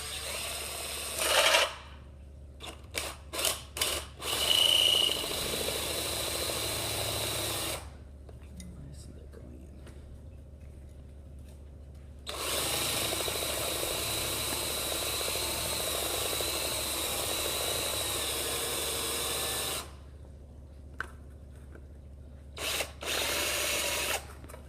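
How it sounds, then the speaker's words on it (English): Power drill boring a hole through a circuit board, with bursts of high whirring separated by pauses and short clicks, heard up close and loud. "start drilling"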